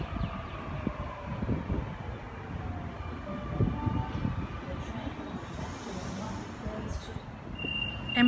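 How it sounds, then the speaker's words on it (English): A Sydney M set electric suburban train pulls into a station platform at Seven Hills, its steady rolling rumble rising with faint squeals and whines, a voice talking over it. "We have an M set arriving onto platform 1 for a Leppington service."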